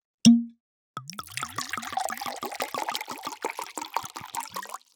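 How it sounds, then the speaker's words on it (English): A cork pops loudly from a bottle of 2022 Chateau Montelena wine, followed by a steady glugging pour of wine into a glass, close and alone without talk. "we're opening a bottle of wine to start the conversation."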